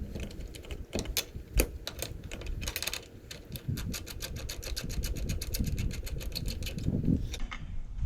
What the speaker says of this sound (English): have to bolt all three of these jacks on